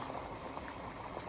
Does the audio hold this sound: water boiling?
yes